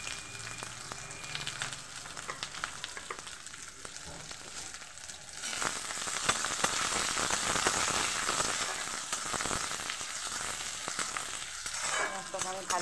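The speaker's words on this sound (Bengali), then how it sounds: "পেঁয়াজটাকে আমি ভালোভাবে ভেজে নেব।" Plenty of chopped onion frying in about three spoons of oil with bay leaf and cardamom in a pan, a steady close crackling sizzle that grows louder and denser midway, with occasional stirring scrapes.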